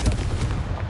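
A Confringo spell blast in Hogwarts Legacy, a dense, booming explosive burst with heavy low rumble filling the whole moment, loud and close, with no talk over it.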